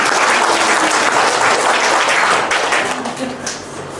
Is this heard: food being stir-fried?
no